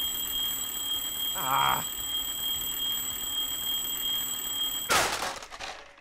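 An alarm goes off on a supply bag in the Firewatch video game: a short, bright ringing burst over a steady ambient game hum, followed later by a louder rush of noise.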